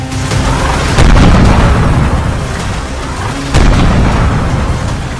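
Explosions and air strikes in Baghdad heard as a loud, continuous roar of blast noise with two heavier booming surges a few seconds apart.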